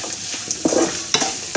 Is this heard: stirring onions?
yes